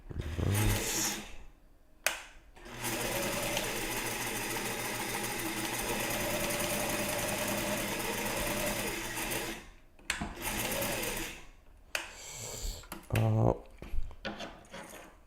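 A sewing machine runs in long continuous stitching bursts, a steady motorized whir with rapid needle clatter lasting several seconds, pausing briefly between runs while thread tension is tested.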